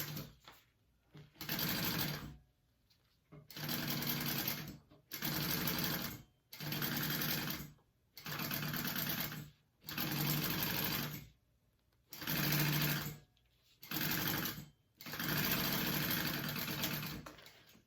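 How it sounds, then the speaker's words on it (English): Sewing machine basting a zipper flap on a tote bag, running in about ten bursts of steady stitching separated by brief pauses, close and clear with no talk. "I'm going to just baste that together first so it's easier to put on this piece."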